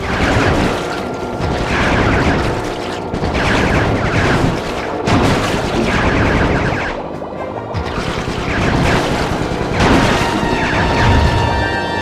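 Bentley shoots in Sly 3: Honor Among Thieves, a loud barrage of booming shots and mechanical clanks in repeated bursts over a busy, continuous game soundscape.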